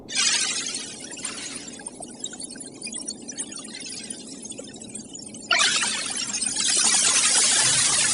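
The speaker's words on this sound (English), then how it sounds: "As these particles ping into spacecraft and other orbiting instruments, they pick up a signal that sounds like this" Sonified signal of coronal mass ejection particles hitting a spacecraft: dense hissing static with crackly bursts over a low hum, growing noticeably louder and harsher about halfway through.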